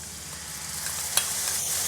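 Masala with ginger and onion being stirred in a frying pan as part of black chickpea chaat; a soft, steady sizzle runs throughout with one brief scrape of the spoon, quiet and close.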